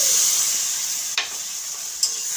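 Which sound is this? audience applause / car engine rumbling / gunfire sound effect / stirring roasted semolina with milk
stirring roasted semolina with milk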